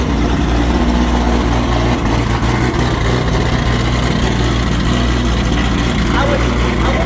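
A 1500hp Toyota Supra engine runs at a steady, loud, throbbing idle close by, a dense low rumble with no pauses, and voices talk over it.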